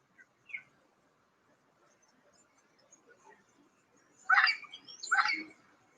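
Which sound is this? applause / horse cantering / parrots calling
parrots calling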